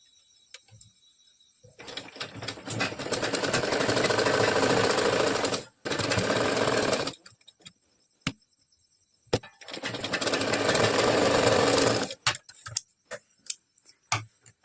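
A sewing machine stitches a princess-cut blouse, whirring in three sustained runs of several seconds each, separated by brief silences with sharp ticks and clicks of handling.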